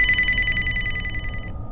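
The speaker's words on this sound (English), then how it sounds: "Suddenly, the phone in her room started ringing." A room telephone rings in a creepy tale, one steady trilling bell ring that stops abruptly, heard alone without talking.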